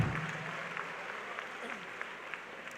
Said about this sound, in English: Can we give a round of applause to the participants?